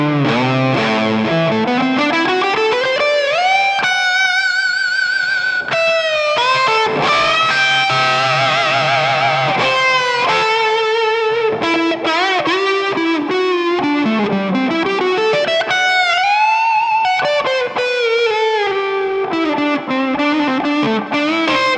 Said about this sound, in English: Now let's hear that with the delay.